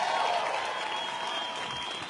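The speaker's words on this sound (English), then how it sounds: "Let's give them a round of applause." Brief applause from an audience at a film screening with a panel discussion, a steady spread of clapping that starts fullest and thins a little as it carries on.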